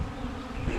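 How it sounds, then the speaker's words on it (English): Honeybees buzz in a dense, steady drone, close and loud throughout a brief moment with no voices. "The bees are busy."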